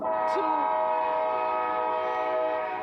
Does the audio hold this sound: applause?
no